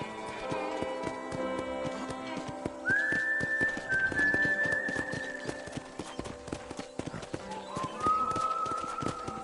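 Steady clip-clop of horse hooves at a walking rhythm in Red Dead Redemption, close and clear, with whistle-like tones drifting over it.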